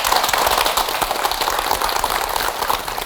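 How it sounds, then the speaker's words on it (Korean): Studio audience at a televised health lecture on arthritis applauds in dense, steady clapping, moderately loud and without talk over it. "강남욱 전문의께 박수와 함께 특강을 청해 듣겠습니다."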